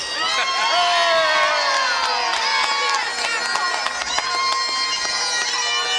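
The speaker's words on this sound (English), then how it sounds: "if you clap and yell real loud" A St. Patrick's Day parade crowd claps, whoops and cheers loudly, with children shouting among the steady roar, sustained close and energetic throughout.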